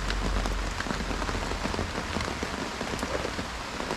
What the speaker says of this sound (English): Can't beat fishing in the rain.